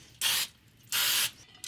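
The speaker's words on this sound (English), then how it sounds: "Make sure that you spray these because, you know," Cooking spray hisses onto silicone pancake molds in two short bursts of even loudness, with a quick third puff beginning at the very end, close and clear in a quiet kitchen.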